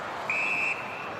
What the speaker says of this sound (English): Quite quick on the whistle that time.